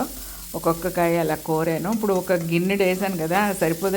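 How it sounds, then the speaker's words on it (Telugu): Grated amla (Indian gooseberry) frying in a little oil gives a steady, fairly loud sizzle, heard under continuous close talking. "అందులో తడి ఉంటే కనుక సుయి సుయ్యమని సౌండ్ వస్తూ ఉంటుంది అనమాట"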